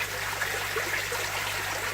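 Steady trickle of water falling into a koi pond from the main return pump, a continuous close splashing wash with a low hum underneath.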